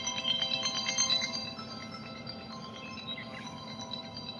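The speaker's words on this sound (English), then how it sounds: "the phone call is coming in." A phone ringtone for an incoming call, a melodic electronic tone with sustained notes, louder at first and then continuing more softly.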